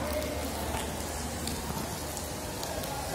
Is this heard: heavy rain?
yes